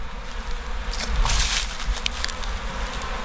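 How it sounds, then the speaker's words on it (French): Honeybees buzz densely near a weak, dying hive as young bees return to it, a steady hum with wing flutters swelling and fading close to the ear. "toutes les jeunes abeilles sont en train de remonter en fait vers la ruche faible"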